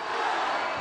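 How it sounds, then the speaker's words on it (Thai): Fans at a Muay Thai fight make a brief, dense roar of cheering, loud and continuous with no gaps. "แฟนๆกีฬาเฮฮากันใหญ่แล้ว"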